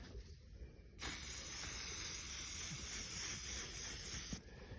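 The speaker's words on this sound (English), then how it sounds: "So you're gonna get some SC1 and just spray it on there." A steady, loud spray of SC1 cleaner from a spray can onto a dirt bike hisses continuously for about three seconds, starting and stopping abruptly, with no talking.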